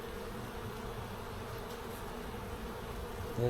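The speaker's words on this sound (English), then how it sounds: "So there are bees on the top cover" Honeybees buzz at the hive during an inspection in a steady, dense drone close by, a low continuous hum from many insects at once.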